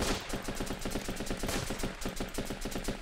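Rapid automatic gunfire in the Running With Rifles battle game, a steady, fast rattle of shots that continues through the whole stretch without voices.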